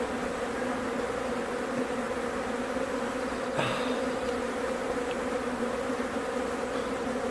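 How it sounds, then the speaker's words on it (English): A dense, steady drone of many honeybees buzzing in an open hive fills the air up close, constant and loud, with one brief tap partway through. "this is totally packed with bees"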